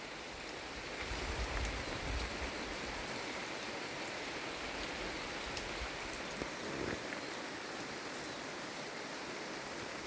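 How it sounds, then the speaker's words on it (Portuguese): Rain falls on a forest in Pará, a steady, dense hiss of drops on leaves that runs unbroken and evenly loud throughout, with no voices. "o barulho da chuva lá na mata"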